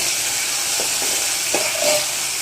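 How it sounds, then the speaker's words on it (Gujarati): Tomatoes sauté in a hot tempering for dal dhokli, giving an even, continuous hiss with a few soft stirring knocks and a faint brief tone. "1 જ મિનિટ માટે આ તાવથી આને સાતળી લેશું।"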